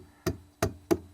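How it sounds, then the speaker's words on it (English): Three sharp, dull knocks from a rubber hammer striking a metal vise grip, evenly spaced and fairly close, with quiet between each blow. "when I tapped on the vice grip"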